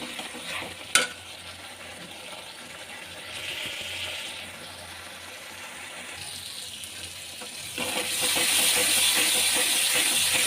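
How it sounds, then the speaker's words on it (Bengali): Spice paste for a fish curry sautéing in a pan, a continuous sizzle with scraping and clicking stirs of a utensil, growing louder and hissier toward the end, no talking. "এই মশলাটা ততক্ষণই কষতে হবে যতক্ষণ না মশলা নিজস্ব কাঁচা গন্ধটা চলে যাচ্ছে"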